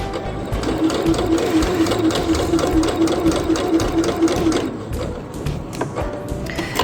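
A sewing machine stitches an apron in one steady, loud, close run of rapid needle strokes for several seconds before stopping, followed by a few light taps and handling noises, with no talking.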